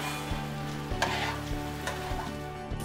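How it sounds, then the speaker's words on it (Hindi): Cumin seeds tempering in hot ghee in a cooking pot, a steady close sizzle with faint stirring scrapes over a constant background hum, no voices. "एक बर्तन में घी गरम करें और जीरा डालकर तड़का लगाएं"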